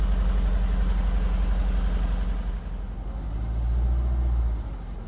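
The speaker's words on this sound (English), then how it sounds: "It's got a very high idle because it's cold." Cold car engine with its original exhaust idles high at first, loud and close with a fast throb, then drops to a lower, softer and slightly uneven chug.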